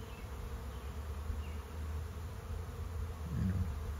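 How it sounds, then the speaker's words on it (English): A few swarm bees fly around near a hive as they orient and land, a steady low buzzing hum that swells slightly toward the end, with no voices. "there's still a few bees flying around, and they're orientating and"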